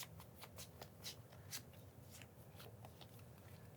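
Playing cards are riffled and shuffled in quick, crisp bursts of flicking and rustling during a Magic: The Gathering Commander game, fairly soft and close.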